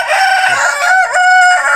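A young rooster, a cockerel, crows once up close, a loud, strained cock-a-doodle-doo lasting almost two seconds with wavering pitch, heard alone without talk.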